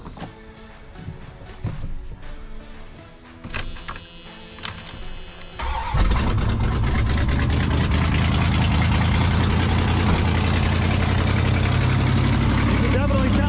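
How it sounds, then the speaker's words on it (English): A Dodge Ramcharger truck's 383 engine with open headers and a blown exhaust gasket idles roughly with scattered clatter at first, then settles into a loud, steady exhaust rumble that fills the rest. "you wanna hear how the exhaust sounds?"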